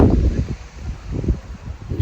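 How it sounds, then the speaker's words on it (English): Wind at a summer micro camper meet rumbles and buffets the microphone in uneven gusts, low and steady for two seconds, with no voices. "It's windy,"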